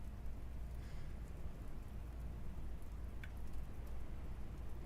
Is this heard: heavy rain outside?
yes